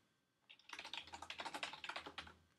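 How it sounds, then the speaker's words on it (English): Quiet, rapid clicking of keys on a computer keyboard, a steady burst of typing that starts after a brief pause and continues to the end. "just by typing"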